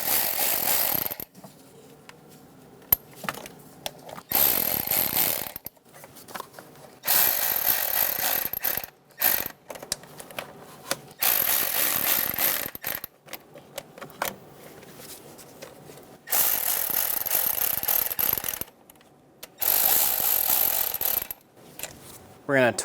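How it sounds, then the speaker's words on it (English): A ratchet wrench snugging down the valve cover bolts on a 2003–2007 Honda Accord 3.0L V6. Close, loud bursts of rapid pawl clicking alternate with short pauses between strokes, with no talk. "Snug the bolts down until they touch the cover."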